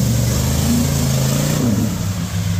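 A two-wheel-drive vehicle stuck in Florida mud revs its engine hard and steadily while its wheels spin, a loud continuous roar with rising and falling pitch.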